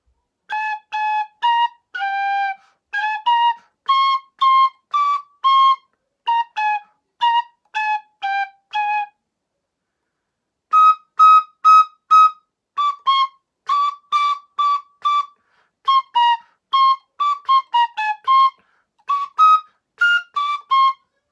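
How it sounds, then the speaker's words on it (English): A small penny whistle plays a lively tune of short, bright high notes in quick phrases, pausing briefly midway before continuing, alone and clear. "This is my smallest penny whistle."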